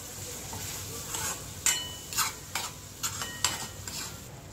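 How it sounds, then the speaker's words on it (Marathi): Ground masala paste is stir-fried in oil in a pan, giving a steady soft sizzle with rhythmic scraping strokes of a spoon, moderately close, with no voices. "आता छान त्याला तेल सुटेपर्यंत आपण थोडा वेळ परतून घ्यायचंय।"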